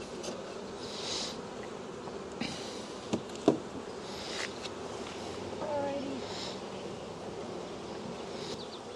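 Honeybees buzz around an open hive during a spring inspection, a continuous swarm drone with a few close passes, while sharp knocks and clicks from frames and tools break through a couple of times.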